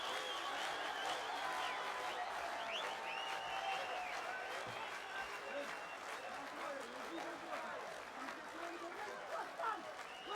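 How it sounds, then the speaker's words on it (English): A crowd applauds and cheers at a WSB amateur boxing bout, a steady distant wash of clapping and chatter under a commentator's voice. "So the crowd really responding well to this one."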